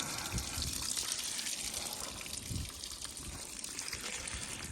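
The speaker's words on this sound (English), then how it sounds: "See how much water was in there." Water drains out of an aluminum pontoon, pouring and splashing steadily with a broad rushing hiss, some low gurgling bursts mixed in, close by and fairly loud throughout.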